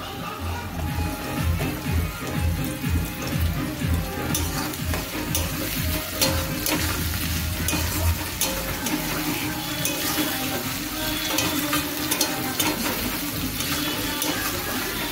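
Tomatoes hitting hot oil in a pan over a raised gas flame, giving a steady loud sizzle with stirring and scraping throughout, mixed with some running-water noise and no talk.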